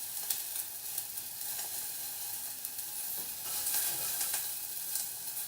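A carrot frying in a hot pan, giving a steady crackling sizzle with sharp pops scattered throughout, close and fairly loud with no talking.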